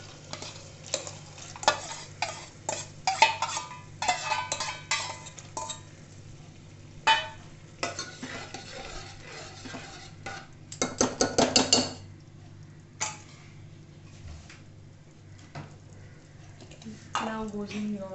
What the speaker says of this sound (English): Now you will add in the soaked masoor.